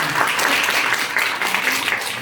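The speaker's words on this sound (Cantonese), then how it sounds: "你俾翻我哋正經嘅掌聲先" Audience applause at a Cantonese-language direct-selling talk, a steady dense wash of many hands clapping together for the whole moment, fairly loud and close, with no speech over it.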